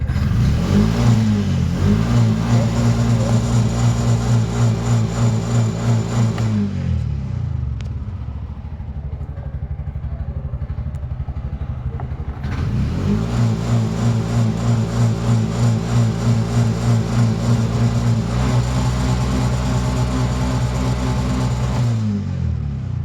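A Bajaj BS6 CNG vehicle's engine revs loudly and up close in repeated rising bursts, drops to a lower idle for a few seconds, then revs hard again.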